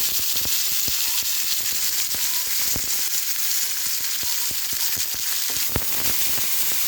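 Dry red chillies and curry leaves fry in hot oil in a pan, a dense steady sizzle with scattered sharp crackles and pops, close and continuous, no voices.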